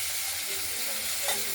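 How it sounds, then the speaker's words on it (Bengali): Tomato is frying in a pan with nearly fried potatoes for a thin pabda fish curry. A short, steady close sizzle runs under a light stirring scrape. "টমেটোটা একটু ভাজা ভাজা করে নেব।"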